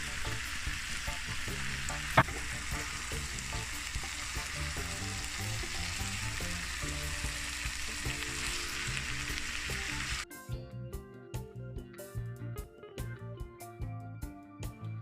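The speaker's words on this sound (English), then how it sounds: "I'm gonna leave this to cook down for another 5 to 7 minutes on medium heat or low heat" An ackee and saltfish mixture with black pepper frying in a pan, a dense continuous sizzle with stirring clicks that drops abruptly after about ten seconds to quieter, sparser crackles.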